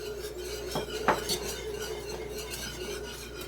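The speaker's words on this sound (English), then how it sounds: "we're just going to continue to whisk this a bit for about a minute or so it thickens up" A whisk clinks and scrapes against a bowl while mixing a coconut milk mixture, with a few louder metallic taps over a low steady background.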